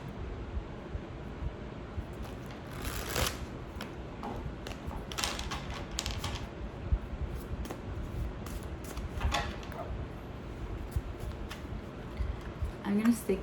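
Tarot cards shuffled by hand in a steady run of soft riffling and tapping, fairly quiet and close, with no talking.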